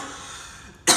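A single sharp cough bursts out close to the microphone at the very end, after a second of quiet room tone.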